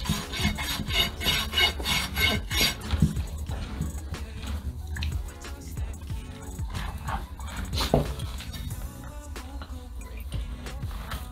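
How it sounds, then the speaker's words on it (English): A radius rasp files the outer edge of a horse's hoof in repeated rhythmic scraping strokes, close and rough, with a dog whimpering or barking faintly at times. "I do have a radius rasp, which is quite good. I'm just going to go around the outside"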